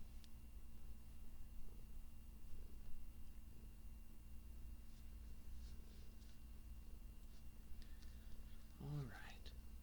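A pet cat purrs close by on bed covers, a low steady rumble under soft whispering, ending with a brief rising meow-like call.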